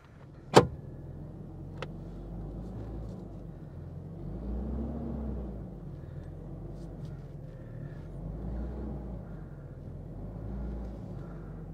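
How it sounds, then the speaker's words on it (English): A truck reverses at a desert campsite during RV travel near Agua Fria National Monument. A steady low engine rumble swells and eases in slow waves, with a sharp click or thump near the start and no talking. "I'm gonna back the truck up now."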